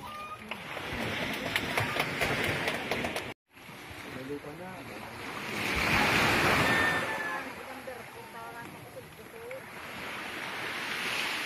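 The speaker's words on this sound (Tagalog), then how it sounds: "Lakas ng alon mga kalingap." Heavy waves roll and crash in broad surges with wind buffeting the microphone, and voices talk over it.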